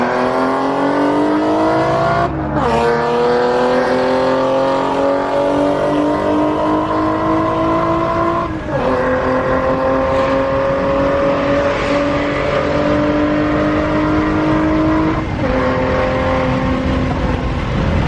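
Ford Mustang with a 3.7 V6 and a GT500 throttle body accelerating hard, engine note climbing steadily through several gear shifts with brief dips between them, loud and close inside the car over continuous road roar.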